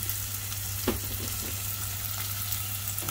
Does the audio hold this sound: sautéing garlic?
yes